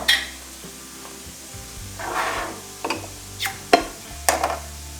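Drained beef, about a pound, goes into a pot for a quick pantry beef stew: soft scraping, light clinks and a faint sizzle come in a few separate close bursts, with no talking.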